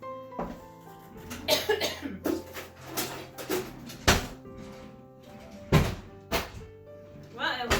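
Several harsh coughs from pepper powder in the air, scattered among speech and clattering kitchen sounds, loud bursts recurring at irregular intervals close by.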